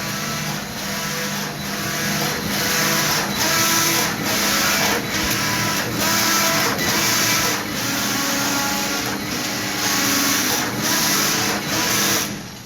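A flat knitting machine runs steadily after its locking is cancelled, its carriage making a loud continuous mechanical whir with regular rhythmic pulses about once per second, repeating through the whole stretch with no talking.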